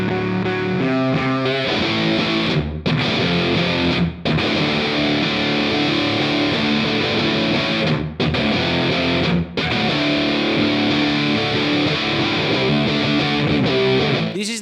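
An electric guitar through a Big Muff-style fuzz pedal, a TC Electronic Honeypot, playing thick saturated chords as a dense continuous wall of sound, loud and close, with a few brief gaps between chords.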